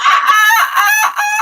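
A voice imitates a seagull call: a loud, close, raspy squawk drawn out in a few wavering bursts, with no other talk.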